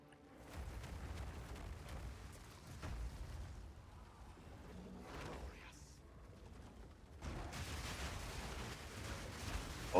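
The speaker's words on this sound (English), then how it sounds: "that was a lot of fire explosions all at once" A burst of many fiery explosions at once in Path of Exile 2, rumbling booms and blasts layered over each other, swelling and fading over several seconds in a dense, low roar.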